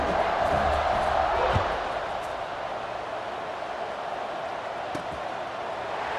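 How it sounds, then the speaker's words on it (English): Stadium crowd noise in EA Sports College Football 26, a loud continuous roar that eases slightly after the first second or so and holds steady, with a couple of faint thuds. "this crowd now ready to get behind them"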